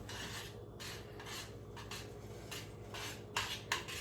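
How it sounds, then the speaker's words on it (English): A utensil stirs and scrapes through a homemade mac and cheese sauce with crumbled bacon bits in a pan, making soft repeated rasping strokes that end in a couple of sharper knocks. It is quiet and close, with no talking. "So we're going to just mix it around."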